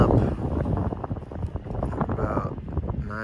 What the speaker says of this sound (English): Switched back to the boom because of wind.